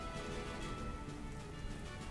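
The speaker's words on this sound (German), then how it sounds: "Ich mag ja auch Regen. Super beruhigend." Rain falls steadily in Pokemon Omega Ruby, a soft, even patter and hiss with no breaks, faint and alone.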